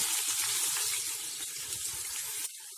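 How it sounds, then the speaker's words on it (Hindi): Four medium finely chopped onions fry in hot oil in a pan, giving a loud, steady crackling sizzle that continues close up and then suddenly drops in level near the end. "तेल हमारा गरम हो चुका है। इसमें डालिए 4 मीडियम साइज की बारीक कटी हुई प्याज।"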